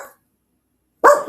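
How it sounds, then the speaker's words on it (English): A pet dog gives a loud, close bark burst near the end, with a brief sound at the very start and silence between. "That's my dog."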